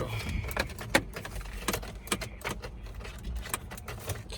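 Car keys jangle and rattle near the ignition of a Dodge Challenger that will not start, quick metallic clinks and scrapes in irregular bursts close by, with no engine turning over.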